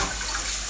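Tap water runs steadily into a kitchen sink while dishes are rinsed, a continuous close hiss of flowing water with no pauses.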